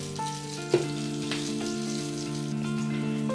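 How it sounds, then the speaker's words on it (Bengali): Eggplant pieces frying in hot oil in a pan while a parshe fish curry is being prepared, giving a steady close sizzle with one brief louder pop early on, alone with no talk. "বেগুন এরকম লাল লাল করেই ভেজে নিতে হবে।"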